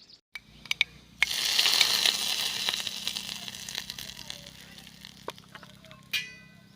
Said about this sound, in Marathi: परंतु यावरती आपण थोडीशी फोडणी करूया.